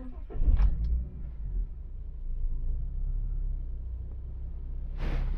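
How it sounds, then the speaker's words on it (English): A 2004 Ford Falcon XR6 Turbo engine turning over and catching at the start, then settling into a steady low idle rumble for several seconds, with a brief higher whir near the end. "So fire the engine up."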